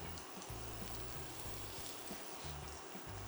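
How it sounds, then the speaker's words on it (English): Shrimp searing in a frying pan, a faint, steady sizzle and crackle of hot fat running without pause, with a low hum underneath and no voices. "you're only going to sear them for a couple minutes per side until the shrimp cooks through"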